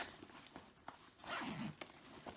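A zipper on a Coach backpack slides open in a single longer drag with a few short ticks and rustles around it, close and quiet.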